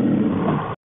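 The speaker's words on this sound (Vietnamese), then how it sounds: "con báo" A leopard gives a single loud, rough roar lasting under a second, cut off abruptly into silence.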